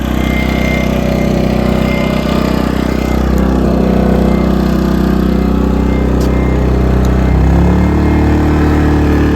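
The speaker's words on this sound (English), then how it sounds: "You can probably hear my generator running in the background." A steady small generator engine drones continuously at a constant, loud level with a low rumbling hum, no pauses or speech.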